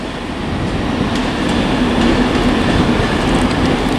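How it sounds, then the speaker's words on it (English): A Class 390 Pendolino electric train from London Euston pulls into Edinburgh Waverley station, giving a loud, steady rumble of wheels and carriages with faint squeals on the rails. "a Pendolino terminating from London Euston is here"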